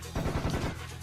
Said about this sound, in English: I think that the Tommy gun is the second most effective weapon in the game.